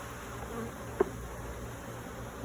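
Honey bees buzz at an open hive during a frame inspection, a steady faint drone with one brief click near the middle.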